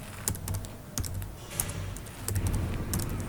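Sharp plastic clicks from a computer mouse and keys, a dozen or so quick irregular taps close to the microphone over a low hum, without speech.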